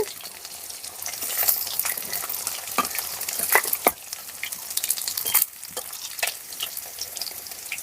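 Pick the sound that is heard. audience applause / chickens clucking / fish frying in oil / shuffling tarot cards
fish frying in oil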